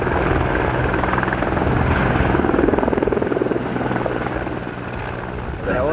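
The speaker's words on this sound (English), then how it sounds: "The helicopters reach those areas that we can't get safely." Firefighting helicopters over the Palisades Fire in Los Angeles, a loud continuous rotor thrum with steady engine drone filling the scene, constant and close, with voices faintly mixed in.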